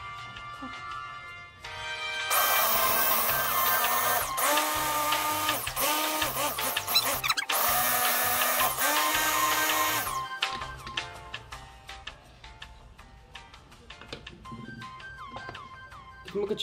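An electric grinder whirs loudly as it mills herbal remedy ingredients for chickens, running in one long steady burst with a few brief dips before it winds down into quieter clatter and handling noises, with voices talking faintly.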